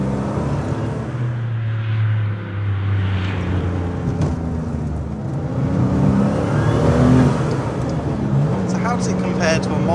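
A turbocharged RUF CTR Yellowbird engine revs and drones steadily throughout, rising and falling in pitch, heard close while someone talks over it.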